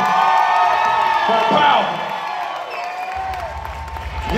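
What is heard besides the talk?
audience clapping and cheering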